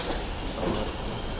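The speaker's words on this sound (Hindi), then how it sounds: "कोटरी जंक्शन से क्रॉस हो रही है 48 डाउन रहमान बाबा एक्सप्रेस।" The 48 Down Rehman Baba Express crossing Kotri Junction, a continuous loud rumble of rolling train cars with rail noise throughout the short stretch.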